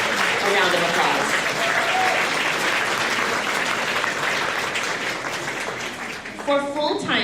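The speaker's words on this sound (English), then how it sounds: "let's give Akeen a round of applause." Audience applause at a Seattle Colleges convocation, a dense, sustained clapping from a large crowd that fades slightly near the end as a voice begins speaking.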